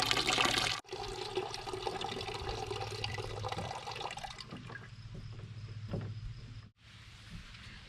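Water runs weakly from a rain barrel on an off-grid homestead with a low water level, a close trickling gush that cuts out briefly, then softens into a thinner dribble before a second short stop.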